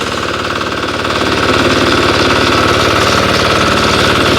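A heavy walk-behind tractor's engine runs loud and close, a rapid, steady thumping chug that holds evenly throughout without pause.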